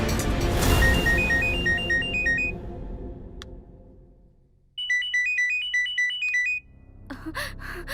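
A phone ringtone plays a repeating electronic melody in two bursts, the first over loud music and the second clear and alone, set in a Bhojpuri film scene.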